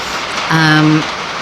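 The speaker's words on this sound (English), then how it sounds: "It's raining really hard here and I have a tin roof" Heavy rain drums steadily on a tin roof, a loud continuous hiss filling the whole stretch, with a brief voice rising over it in the middle.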